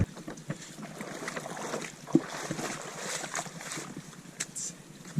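A canoe paddled on one of Alaska's Swan Lakes: soft rhythmic water swishes and drips over steady wind and faint hull knocks, close and fairly quiet, with no talk.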